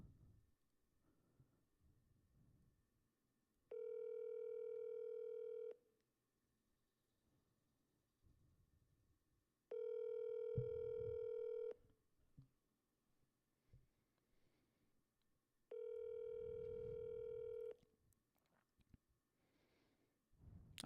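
A telephone call rings out unanswered: three evenly spaced, long tonal ring bursts of about two seconds each, separated by roughly four-second gaps of quiet room noise.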